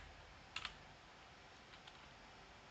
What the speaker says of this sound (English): then we start typing the name of our class